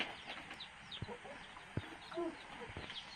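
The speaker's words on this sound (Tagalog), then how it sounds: "may mga manok din siya alaga, yun, oh, manok" Chickens cluck faintly in short scattered bursts against a quiet outdoor background.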